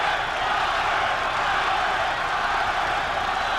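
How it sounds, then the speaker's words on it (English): A boxing crowd cheering for Robert Quiroga during a bout against Akeem Anifowoshe, a steady, dense roar of many voices sustained at even loudness throughout with no distinct words. "The cheer for Robert in the background"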